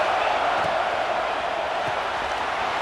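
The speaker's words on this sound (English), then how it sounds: "This crowd ready to make its presence known." A dense, steady roar rises from a packed stadium crowd at an Alabama versus Ohio State college football game, loud and continuous, with a faint voice beneath it.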